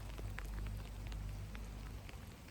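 Rain falling outdoors during a HIIT workout makes a soft, steady patter with scattered sharper drops, faint and continuous, with no talk over it.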